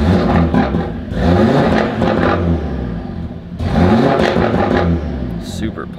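Audi RS3 engine with a 034 Motorsport exhaust, heard from inside the car as two loud rev surges that climb and fall back, with crackling pops at the end, under a voice talking.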